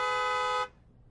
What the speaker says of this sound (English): Looks like my horn honking got the attention of...